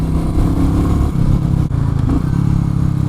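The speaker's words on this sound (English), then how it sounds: "Listen to those downshifts." A Royal Enfield Meteor 350 motorcycle on a highway, its engine droning loud and near with a thumping exhaust note and a brief dip as it downshifts, then pulling again, with no talking.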